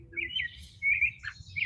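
An American robin, a parent bird that has just caught a worm to feed its hungry chick, chirps in a run of clear, bright notes. The calls come in short bursts over a faint low background hum.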